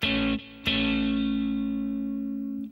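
Electric guitar double stop from a song's intro solo, struck twice: a brief first hit cut short, then a second chord left ringing with a long, slowly fading sustain, alone and fairly loud.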